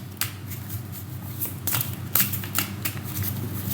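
Playing cards handled and drawn for a card reading, close soft flicks and slides in a quick irregular patter with no talk.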